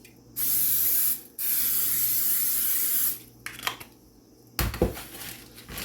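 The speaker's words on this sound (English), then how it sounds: "First thing you're going to do is spray your baking dish." Two long hissing bursts of aerosol cooking spray coating a baking dish, followed by light clinks and taps of the dish being handled.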